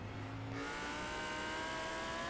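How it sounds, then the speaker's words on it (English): On board a GT3 race car at Daytona, the engine revs climb and hold at a loud, steady, near whine, with a gear change early on and no talk. "Just listen to those revs."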